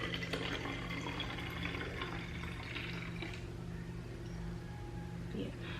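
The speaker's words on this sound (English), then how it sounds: "we're gonna start pouring this into the bottle" Apple cider vinegar being poured into a bottle, a steady splashing, trickling stream of liquid that stays close and continuous throughout, with faint background hum underneath.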